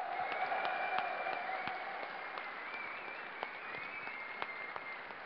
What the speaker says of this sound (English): let's give a round of applause to our first place champion, Nama!